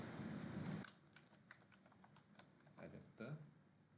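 Typing on a computer keyboard comes in short irregular bursts of light, close key clicks, quiet and crisp, with a brief stretch of noise at the start.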